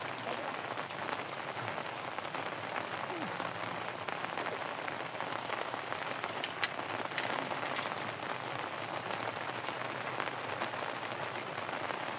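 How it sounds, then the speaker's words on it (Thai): Steady rain falls on surfaces around an excavation pond, a dense constant patter of drops throughout, with no voices. "ฝนตกนะครับ"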